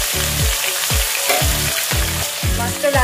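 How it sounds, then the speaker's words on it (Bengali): Tilapia fish frying in hot oil for a Bengali-style fish curry, heard as a loud, close, steady crackling sizzle with a faint repeating low pulse beneath and no talking. "মাছটা লাল করে ভাজা হয়ে গেছে দেখো"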